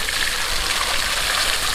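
Water gushes continuously out of a siphon pipe drawing from a river, a loud, steady rushing hiss that holds even throughout and stands alone without speech.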